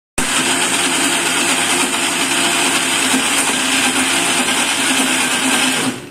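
An electric mixer grinder churns soaked urad dal in its jar with a loud, constant high-pitched whir that starts abruptly and cuts off just before the end.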